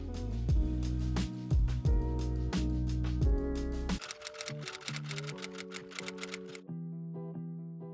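Sewing machine stitching the hems of fabric dress ties, a close, rapid mechanical clatter in several bursts with short pauses between them.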